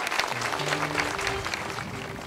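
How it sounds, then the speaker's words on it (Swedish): Applause from a wedding audience for a choir, a dense, moderately distant patter of many hands clapping, with a few faint sustained tones and murmur underneath. "ge dem en riktig applåd"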